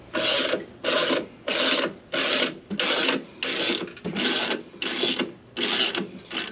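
Wrench ratcheting on motorhome wheel bolts during a tyre change, nine evenly spaced bursts of rasping clicks roughly every three-quarters of a second, close and clear with no talking.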